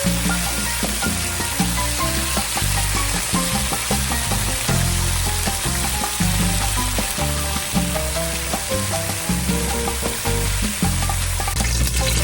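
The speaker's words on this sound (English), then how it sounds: "We got our first batch sauteed, and now we are going to do a second batch to get that nice and brown and golden." Chicken pieces for a Cuban-style fricassee sauté in a pan, giving a steady, continuous sizzle and fry throughout, with what seems like music playing along underneath.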